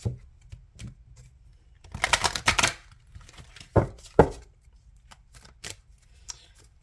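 Oracle cards are shuffled by hand in short, crisp bursts of riffling and tapping, close and fairly quiet, with gaps of near silence between handlings and no talk.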